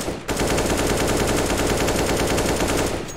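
Automatic rifle spray fire in Counter-Strike: Global Offensive, one long unbroken burst of rapid shots lasting about three seconds, loud and dense, with no voices over it.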